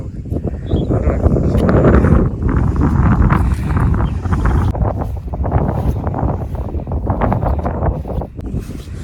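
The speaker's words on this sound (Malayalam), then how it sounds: "നല്ല കാറ്റ്" Strong wind gusts buffet the microphone on a hilltop during a monsoon trek, a continuous loud rushing roar with fluctuating intensity and no speech.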